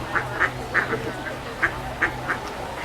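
Ducks in the Alcazar gardens of Seville quacking in a quick series of about eight loud, nasal calls, close by and fairly evenly spaced, over a low background hum.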